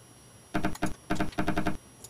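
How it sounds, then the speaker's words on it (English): Spider running in the SimAnt video game: a quick burst of rapid clicky, tapping patter in short clustered bursts, close and fairly faint, without talk. "It's the sound of the spider running."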